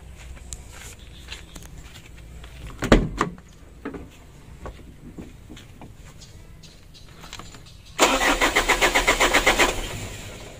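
A car engine with jelly-like oil sludge struggles to start: quiet clicks and a brief sputtering crank, then a loud, rhythmic starter cranking near the end that doesn't catch.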